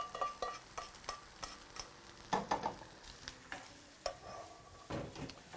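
Dry, grainy uncooked rice stirred around a frying pan over low heat, giving a steady rustling scrape punctuated by sharp ticks and clinks of the utensil against the pan, close and fairly quiet.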